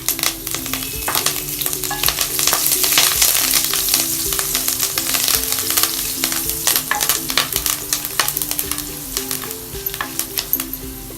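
Two dried red chillies, a pinch of asafoetida and curry leaves crackle and sputter in hot oil, a loud dense sizzle with rapid popping and spoon stirring throughout, no voices.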